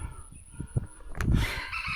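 Backyard chickens cluck in short, low, irregular bursts, and a rooster crows faintly at mid-distance against a steady outdoor background, with no one speaking.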